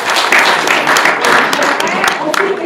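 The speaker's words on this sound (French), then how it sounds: "j'aimerais qu'on applaudisse aussi pour ceux qui n'ont pas été élus" Crowd applause at an election meeting for candidates who were not elected, a steady dense wash of clapping at close range with some voices mixed in throughout.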